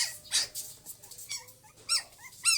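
Dog whimpering in short, high, faint whines and yips, several brief bursts scattered across a quiet background, with no talking over them.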